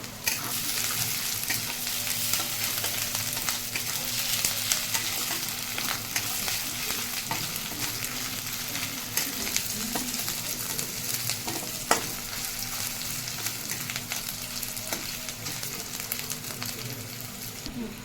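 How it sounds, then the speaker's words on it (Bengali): Crushed ginger and spices fry in a pan, giving a loud, constant sizzle with occasional spatters while a utensil keeps stirring through it. "এবার আদা থেতো দিয়ে দিচ্ছি এবার আমি নাড়তে থাকবো"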